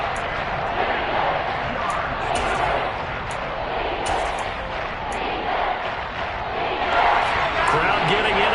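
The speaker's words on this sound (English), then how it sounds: "Crowd getting in it a bit already." Stadium crowd at an American football game, a dense, loud, continuous roar that swells slightly toward the end, with a commentator's voice over it.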